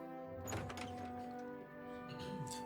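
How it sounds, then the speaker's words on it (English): A heavy door bursts open with a loud thunk in Pillars of Eternity II, a single impact over a steady, tonal musical background. "Une porte s'ouvrant avec grand fracas la pousse à s'interrompre."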